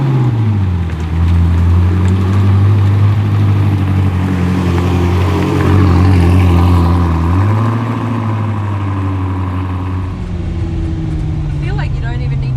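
A 1,750-horsepower car engine drones loudly and close, its steady low tone dipping and rising once as it pulls through the gears, with faint voices partly under it.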